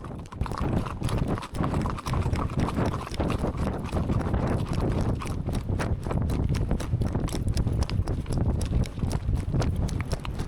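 Icelandic horses tölt along a track, their hoofbeats forming a rapid, continuous patter of clip-clop close by. The steady rhythm carries through the whole stretch with a little background noise.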